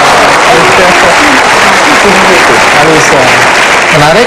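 A television talk show audience bursts into loud, continuous applause filling the whole stretch, with a host's voice speaking over the clapping.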